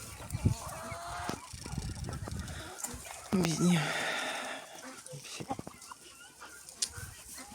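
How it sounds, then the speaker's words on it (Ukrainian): Chicks cluck and cheep softly around a person speaking Ukrainian nearby, with scattered short calls and rustling throughout. "Ходять в мене курчатка."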